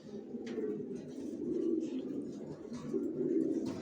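Racer pigeons in a loft give soft, continuous throaty cooing in overlapping rolling phrases, close and moderately loud, with faint rustles and flutters.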